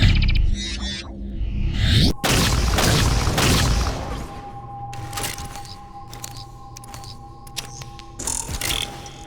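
A scatter shot shotgun firing in a first-person shooter video game, one loud blast with a long crackling tail, followed by mechanical clicks and smaller metallic impacts.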